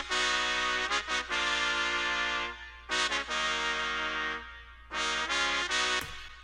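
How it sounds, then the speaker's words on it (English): Synthesized MIDI trumpet line from an instrumental, played alone in Ableton: bright brassy stabs in short rhythmic phrases separated by pauses, loud and clean with no voices. "Trumpet part alone just sounds like this."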